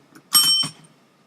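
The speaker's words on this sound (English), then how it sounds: "Repeat after the bell." A small bell rings out clear and bright as a signal, sounding as one sharp ding followed by a quicker second strike, then quiet.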